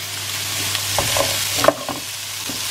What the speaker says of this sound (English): So I just added the beef back to the pan